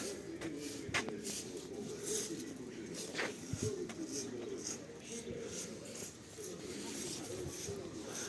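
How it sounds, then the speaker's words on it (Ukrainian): Soft pigeon coos and shuffling wings over a steady outdoor hum in a town centre in Truskavets, Ukraine, with faint distant voices in the background. "Голуби і тиша."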